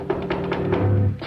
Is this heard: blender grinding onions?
no